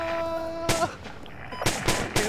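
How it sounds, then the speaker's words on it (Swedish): Gunfire in the military video game ArmA 2: a sharp single shot, then a quick cluster of three more sharp reports close together, loud against a low background hum. "Enemy fire."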